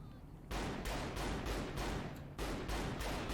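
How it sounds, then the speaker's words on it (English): A rapid-fire shotgun in the video game Saints Row The Third Remastered blasts in quick succession, several loud booming shots that run together into a dense, continuous barrage. "It's a rapid fire shotgun."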